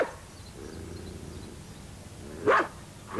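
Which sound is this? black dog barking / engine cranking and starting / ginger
black dog barking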